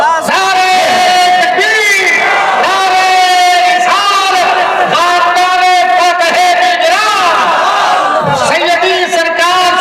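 A large crowd at a religious jalsa in Malikpur chants takbir and risalat slogans in loud unison, the massed voices rising and falling continuously without a break.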